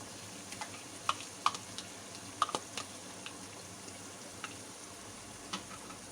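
Curry masala is stirred with yogurt for mutton kofta curry, producing soft sporadic scraping ticks and light clinks of a spoon against the pan over a faint steady hiss, with no talk.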